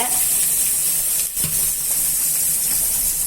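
Big onions sauté in a pan for raw banana kola urundai, producing a loud, continuous hissing sizzle close by with one brief dip midway.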